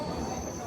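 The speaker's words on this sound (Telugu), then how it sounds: "జన్మభూమి ఎక్స్ప్రెస్ ప్లాట్ఫామ్ నెంబర్ 1 కి అయితే వచ్చింది" Janmabhoomi Express with upgraded LHB coaches at platform one of an Indian station, a brief rumbling wheel-and-rail sound with a faint squeal, close by, with a voice in the background.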